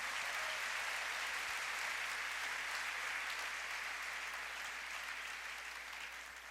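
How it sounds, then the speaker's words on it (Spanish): A church congregation applauding strongly during a service, a broad sustained wash of clapping from a large crowd, even and continuous, easing slightly toward the end. "Denle un aplauso al Señor bien fuerte en esta tarde."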